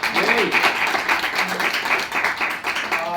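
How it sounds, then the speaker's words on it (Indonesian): Students applauding in a classroom during a sociology microteaching lesson, steady dense clapping from a group with some voices mixed in underneath. "Boleh tepuk tangan lagi buat kalian semua."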